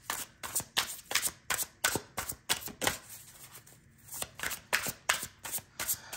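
Tarot cards being shuffled by hand in a quiet room, with repeated crisp riffles and flicks in a steady rhythm, close and moderately loud, no talking.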